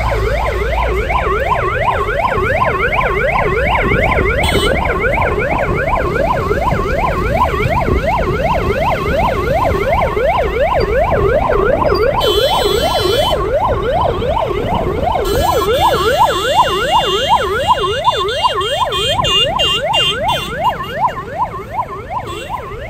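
A police car siren wails loudly and close, its tone rising and falling in a fast, steady cycle for the whole stretch, with an extra warbling burst layered in partway through, amid security patrols ahead of a visit by Prime Minister Modi in Gujarat.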